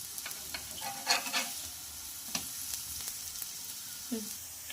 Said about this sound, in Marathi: इझिली ही नॉनस्टिकच्या तव्यावर फ्राय होतात ह्या टिक्क्या।